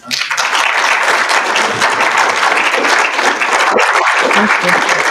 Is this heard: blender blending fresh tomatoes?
no